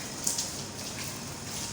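Steady rain falls and patters on surfaces in hot, stormy weather, a dense even hiss of drops with no voices.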